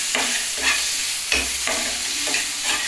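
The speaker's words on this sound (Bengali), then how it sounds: "এটা ভাজা হোক আর টমেটোটাও সিদ্ধ হতে থাকুক।" Spices and tomato fry in a pan for a Bengali fish dish, a constant close sizzle broken by several rhythmic scrapes of a spoon stirring.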